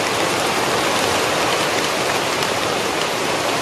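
Heavy rain driven by wind falls without letup over a countryside snake-trapping spot in Sóc Trăng, a loud, close, unbroken rushing hiss of drops pelting the ground and foliage.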